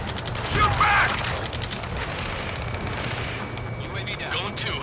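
Sustained gunfire and artillery in an Ace Combat 7 battle, a continuous rattling barrage with heavy low rumble underneath, a louder burst early on, and radio voices talking over the fighting.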